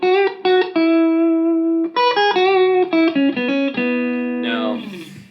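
A clean electric guitar played through a Supro 1968RK Keeley Custom 12 amp with reverb in the effects loop: a short melodic run of sustained notes and chords, ending in a strummed chord that rings out.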